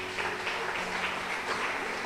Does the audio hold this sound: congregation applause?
yes